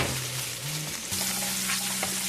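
Chopped onions and green chilies fry in hot oil for chicken curry, a dense steady sizzle close to the pan with a spoon scraping through partway, and no voices.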